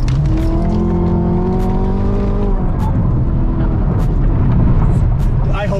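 A Camaro ZL1 slides sideways at about 70 mph on an interstate: a loud, continuous engine roar with a wavering whine that dips in pitch, mixed with tire noise and rushing wind throughout.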